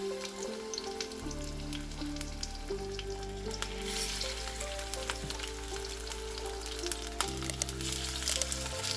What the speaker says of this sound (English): Once the oil is hot, add in the 300 grams beef slices.